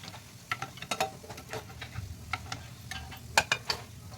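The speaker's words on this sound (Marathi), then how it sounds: "असेच मी सर्व कोपते तळून घेणार आहे" Bottle gourd koftas frying in hot oil, a quiet crackle and patter of popping bubbles with scattered sharper ticks, close and without talk.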